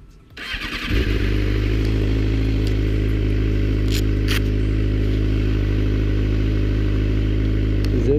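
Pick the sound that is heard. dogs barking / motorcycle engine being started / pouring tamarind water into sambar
motorcycle engine being started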